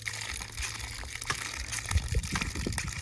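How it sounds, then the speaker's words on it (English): A deep-well hand pump drawing ice-cold water, with a faint steady rush that turns into a few splashy gushes and trickles toward the end, fairly quiet and close by. "So this just pumps little bits of water at a time from a long distance down."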